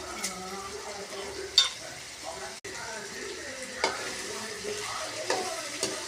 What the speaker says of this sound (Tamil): இப்போ நம்ம வெங்காயம் போட போகிறோம். அதையும் போட்டு இப்போ நம்ம வணக்கிக்குவோம்.